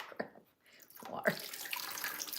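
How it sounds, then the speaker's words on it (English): Water runs from a kitchen tap while strawberries are prepared for an Easter cake, a steady broadband rush starting after a couple of soft knocks and continuing to the end. "Now the water's coming out."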